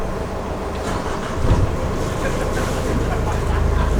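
Boat engines on a Lagoon 40 catamaran start up and settle into a steady, loud low rumble, with a surge in the middle and heavier throbbing toward the end.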